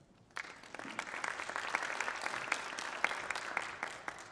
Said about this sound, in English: Thank you guys very much for the round of applause.